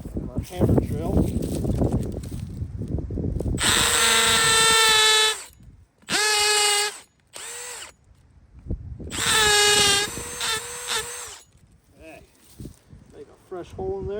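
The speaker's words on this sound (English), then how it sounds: "Take our small drill bit, our hammer drill." Hammer drill with a small bit boring into a freshly cut green tree stump on an abandoned blueberry farm, several loud whining bursts of varying length, with speech and rustling between them.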